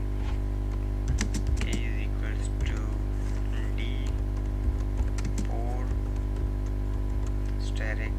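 Steady run of keystrokes as a formula is typed on a computer keyboard, the clicks light and close throughout while someone talks over them.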